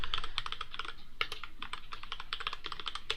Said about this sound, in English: We'll do C on the keyboard.